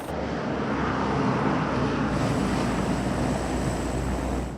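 A fixed-wing aircraft roars steadily at Camp Bastion's military airfield, a broad, continuous engine rumble heard at a distance without pause for a few seconds.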